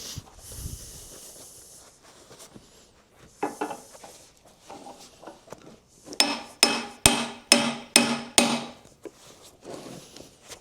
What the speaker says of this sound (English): So we just have to try and hammer that through there